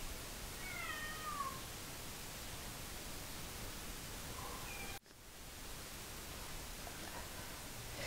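A gray kitten about four months old meows a couple of brief times over steady hiss in a shelter setting, the calls faint and high, with a sudden dip in the background noise partway through.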